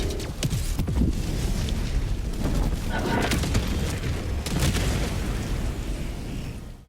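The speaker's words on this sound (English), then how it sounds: "Requesting orbital strike." Heavy orbital strike explosions in the Helldivers 2 video game: loud, dense booming blasts and rumbling bursts follow one another throughout with no pause, some sharp impacts standing out from the sustained roar.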